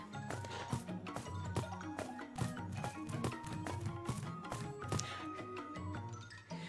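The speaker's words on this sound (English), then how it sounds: "It's stomping all over the place." A creature stomping around in the PS4 game Utawarerumono: Mask of Deception: repeated heavy, irregular thuds and knocks close by, mixed with background game music.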